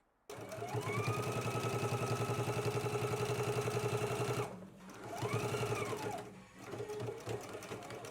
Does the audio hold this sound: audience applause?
no